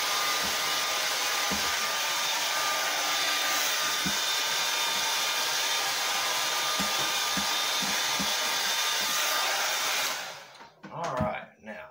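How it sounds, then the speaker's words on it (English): A hair dryer drying a beard blows continuously at close range with a steady whine, then cuts off near the end, followed by a few handling knocks. "now that's going to be that with the hair dryer."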